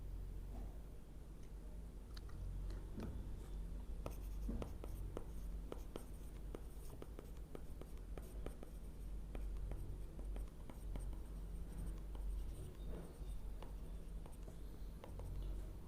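A pen scratches steadily across paper while a geometry problem is worked out by hand, with close, quiet strokes and small taps repeating throughout, and no voice on top.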